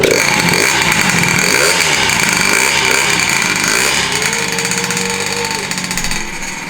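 A Honda Elite scooter with a 120cc stroker engine runs steadily right after its first start, a loud, close, buzzing two-stroke idle with rising and falling revs and no talking.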